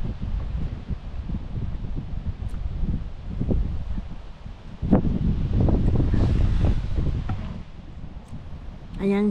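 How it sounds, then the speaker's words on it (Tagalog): Strong gusty wind buffeting the microphone, rumbling and roaring continuously, with a louder gust midway and a short voice at the very end. "Sobrang mahangin."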